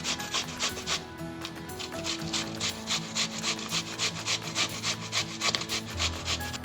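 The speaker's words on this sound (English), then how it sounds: "We're going to be grating for a little while because we need 4 cups of grated zucchini." Rhythmic rasping strokes of a large zucchini rubbed against a grater, about a dozen quick back-and-forth scrapes per few seconds, close and steady with no talking.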